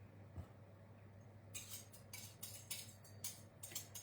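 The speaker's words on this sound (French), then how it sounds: "Donc d'abord, on va mélanger." Eggs and other ingredients mixed in a bowl for pumpkin pie, a quiet start giving way to repeated light scraping and clinking of a utensil against the bowl at a steady, close rhythm.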